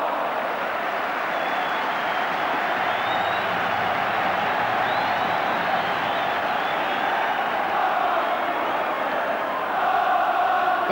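Liverpool's Kop crowd at a League Cup semi-final against Walsall sends up a continuous, far-off roar of cheering and chanting that stays steady and full throughout.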